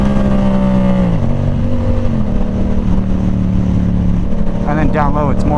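Yamaha R7 motorcycle exhaust drones loudly up close, its engine note stepping down then holding steady, before brief sharper rising revs flare near the end.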